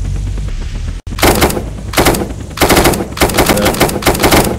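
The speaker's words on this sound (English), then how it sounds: "And then kill what we're getting shot at." Video game gunfire in Unturned during a police pursuit of an escaped convict: loud, close bursts of rapid automatic shots in several volleys, with a brief gap early on.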